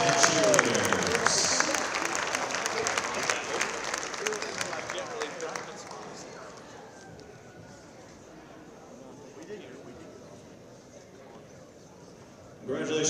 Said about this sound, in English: Let's have one more round of applause for all our senior basketball players and cheerleaders.